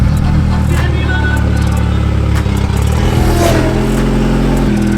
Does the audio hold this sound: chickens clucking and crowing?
no